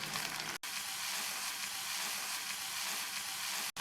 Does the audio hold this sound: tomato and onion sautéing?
yes